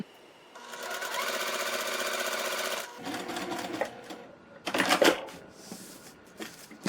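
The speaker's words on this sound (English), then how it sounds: "then you're gonna sew down this line, so from dot to dot" Sewing machine stitching fabric pieces for a sampler quilt block, a loud rapid mechanical rattle running steadily for a couple of seconds, then shorter bursts and handling clatter.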